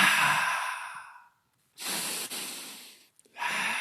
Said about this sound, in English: add a testosterone amplifying breathing pattern, which sounds something like this.